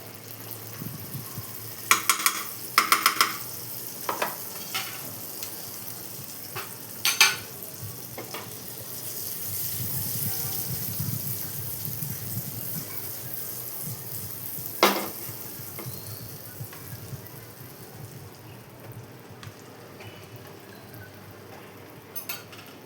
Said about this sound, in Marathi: आता आपण इथे मस्का ॲड करूया पॅनमध्ये.